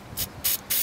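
Spray paint hissed onto EVA foam in three short bursts, each a crisp close hiss separated by brief pauses.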